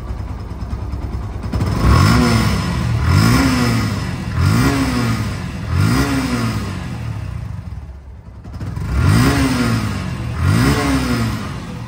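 A second-hand Yamaha FZ-2 motorcycle runs smoothly, its engine revving up and settling back in a regular series of about seven rises, close and loud, with a short dip near the end.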